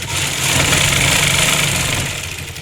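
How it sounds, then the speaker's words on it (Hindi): A sewing machine stitches a suit at home, making a close, loud, continuous whirring hum that holds steady for a couple of seconds. "तो यहाँ पर देखिए मेरी चल रही है सिलाई।"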